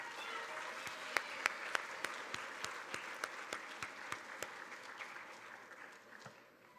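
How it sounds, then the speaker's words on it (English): A round of applause from an audience at a school board student recognition ceremony for children, sustained clapping with several sharper individual claps standing out, fairly faint and distant, tapering off near the end. "If we could have one last round of applause for these kids."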